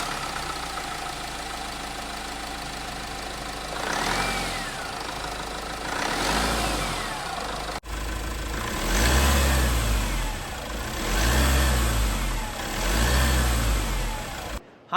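A 2025 Mahindra Scorpio N Z8T Carbon Edition with its 2.2-litre mHawk turbo diesel revs repeatedly in short, loud bursts over a steady rumble, on a beach test.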